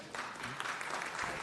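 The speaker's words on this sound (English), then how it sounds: "Please, a big round of applause for Dairine." A city council meeting audience gives a round of applause for young violinist Dairine Santamaria; the clapping is quiet, even and brief.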